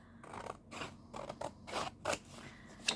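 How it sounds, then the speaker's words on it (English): Scissors trimming white edges off tea-dyed paper, a series of crisp snipping cuts in an uneven rhythm, close and fairly quiet with no voices. "my scissors to trim the white sections"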